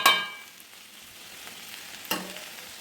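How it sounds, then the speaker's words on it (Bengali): Spices dropped into a hot wok for a hilsa fish head dish, with a sharp sizzle at the start fading to a steady frying hiss and a second burst of crackle midway, with no talk. "সেই মশলাগুলো এবার কড়াইয়ের মধ্যে দিয়ে দেবো"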